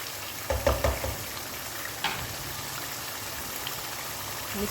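Nawabi qorma masala with red chilli stirred and frying in a pan: a steady sizzle throughout, with a few scraping stirs of a spoon against the pan near the start and middle, no talk.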